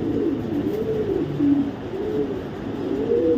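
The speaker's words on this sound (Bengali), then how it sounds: "এটা হলো গিয়া অরিজিনাল নেদারল্যান্ডের কবুতর" An original Netherlands racing pigeon, held in the hand, gives continuous close, loud rolling coos in swelling low phrases, one after another, with no talk over it.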